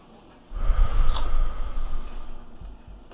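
Heavy, close breathing from a man comes in as audible inhales and exhales with a snort-like rasp, loud at first and then fading.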